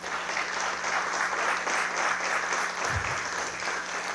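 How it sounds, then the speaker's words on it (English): An audience at a 2024 State of the City address applauds a newly appointed fire chief, with dense, steady clapping from a large crowd that carries on for the full four seconds. "I'd really love to give Nate an applause for becoming the fire chief."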